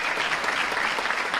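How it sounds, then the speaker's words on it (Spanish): A short, dense burst of audience applause, loud and close, many hands clapping together with no pause. "El primer aplauso es para vosotros."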